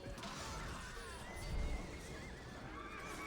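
Horses neigh and whinny amid a battle in the fantasy strategy video game Warhammer: Mark of Chaos, with a louder, rumbling whinny near the middle over steady battlefield noise and faint hoof clatter.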